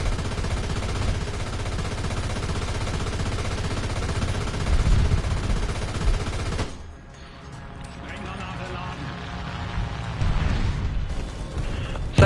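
War Thunder tank combat, with machine-gun bursts firing loudly and steadily for several seconds, then a sharp drop into quieter rumbling and clatter. A distant bomb-like blast and renewed gunfire follow, with a voice talking over the noise.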